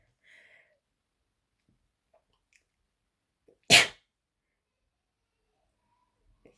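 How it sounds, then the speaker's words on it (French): One sudden, loud sneeze bursts out close by in an otherwise nearly silent room, with only faint breaths before it. "je vais éternuer"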